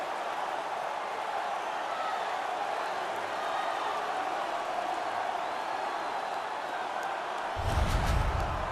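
Arena crowd noise in the hockey video game NHL 17, a steady broad roar sustained throughout, swelling louder with a burst of cheering near the end.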